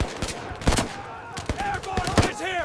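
Rapid gunfire rings out in a Normandy 1944 D-Day battle scene, with loud, close bursts of shots and a few distinct single cracks, while shouting voices can be heard over the shooting.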